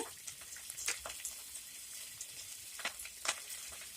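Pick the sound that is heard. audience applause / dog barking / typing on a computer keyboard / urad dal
urad dal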